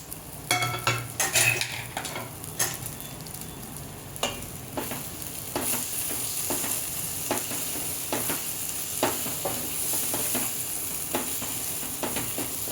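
A spice paste of red chili, garam masala, onion-garlic masala and coriander powder fries in a pan, with a continuous close sizzle and frequent clinks and scrapes of a spoon stirring it.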